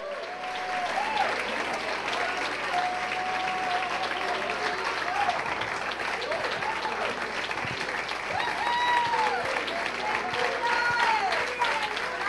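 A church congregation claps loudly and continuously during a Spanish-language service, a thick sustained wash of applause with a voice speaking and calling out over it.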